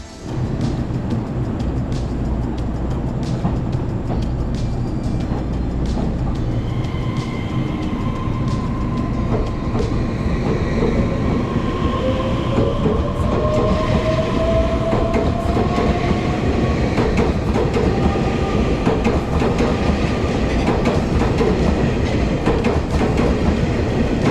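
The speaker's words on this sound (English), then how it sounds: "Let's enjoy our train departing in full on its way up north to Taipei." A Taiwanese limited express train rumbles steadily as it pulls away, with continuous rolling noise, wheel clatter and faint squeals building over about twenty seconds.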